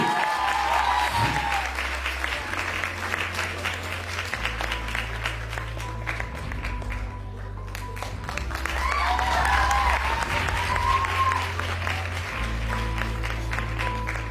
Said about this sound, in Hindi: ताली तो बजा दो अच्छे वाली।